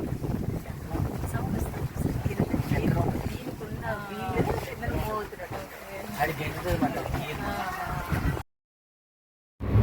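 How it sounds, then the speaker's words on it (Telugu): Water moves beneath a boat whose engine is off, a steady wash mixed with heavy wind buffeting the microphone, while voices talk nearby through most of the stretch before it cuts to silence. "ఇంజిన్ ఆన్ అవ్వలేదు, కింద కదులుతుంది వాటర్."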